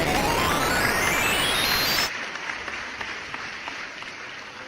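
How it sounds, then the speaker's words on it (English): A sound-effect applause played during a live-streamed hangout: a burst of clapping under a rising sweep tone that cuts off abruptly, followed by faint scattered claps. "Let me give an applause."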